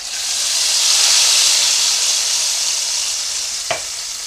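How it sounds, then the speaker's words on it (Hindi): Hot tadka tempering poured into a pot of chicken haleem gives a loud, steady sizzle and hiss that fades slowly, with a brief clink near the end and no voices. "अब इस पे अपना तड़का डालते हैं।"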